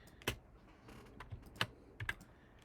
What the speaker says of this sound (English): There I go, closing programs out with my quick keys